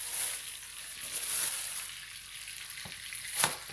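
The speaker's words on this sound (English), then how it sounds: "So we'll get this nice and warm and saute it up real good" Onions sauté in a pan on medium-high heat for chili con carne. A soft, steady sizzle runs throughout, broken near the end by a couple of sharp scrapes or clinks.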